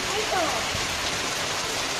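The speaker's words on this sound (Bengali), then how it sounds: "ইফরাজ, তুমি এই বৃষ্টির মধ্যে, কত বৃষ্টি হচ্ছে দেখছো, এই বৃষ্টির মধ্যে তুমি এখানে বসে কি করছো?" Constant close hiss of falling rain, dense and even, with a faint voice briefly audible beneath it.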